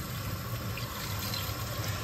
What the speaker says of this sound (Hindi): अब इसमें जितनी हमें ज़रूरत है ना उतना पानी डाल लेते हैं।